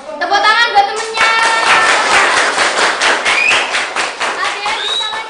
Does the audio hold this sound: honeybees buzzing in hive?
no